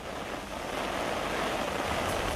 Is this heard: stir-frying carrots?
no